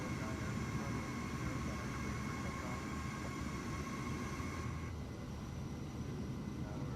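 A Kodiak 100 aircraft engine in Microsoft Flight Simulator 2024 drones steadily throughout, a loud, even cabin hum with sustained tonal whine that dips slightly partway through, with no talk.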